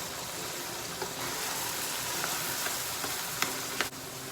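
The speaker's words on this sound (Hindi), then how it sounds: "और उसको थोड़ा सा फ्राई करेंगे।" Minced meat keema with browned onions, turmeric, paprika and salt fries in a karahi, giving a loud, even sizzle close up. Spoon clicks and scrapes break in now and then, and no one talks.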